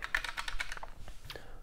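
Quick run of computer keyboard keystrokes, a dense burst of clicky taps that thins out into a few slower, separate presses, close and clear with no talking.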